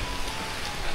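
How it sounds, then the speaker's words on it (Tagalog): Heavy rain falling steadily at a house, a dense, continuous hiss and patter close by with no voices. "Malakas yung ulan."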